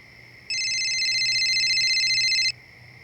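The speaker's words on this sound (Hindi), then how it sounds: "फोन उठाइए" A telephone rings in a steady electronic tone for about two seconds, loud and close, starting and stopping abruptly over a quiet room during a police kidnapping case.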